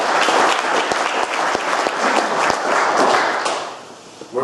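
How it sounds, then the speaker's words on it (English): An audience applauds FFA students at a New York State agriculture event with loud, sustained clapping and a few sharp nearby claps standing out, then fades toward the end. "I would ask you guys to give them a round of applause here"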